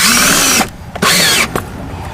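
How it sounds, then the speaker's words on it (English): Loud power screwdriver whirring in short bursts as screws are driven into screw clamps during a cable and outlet install, three close bursts separated by brief pauses. "try to tighten it as tight as you can get it"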